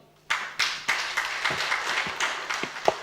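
Applause from an audience at a women's leadership conference, a dense patter of clapping that starts abruptly and carries on steadily, fairly loud and close, with no talk over it.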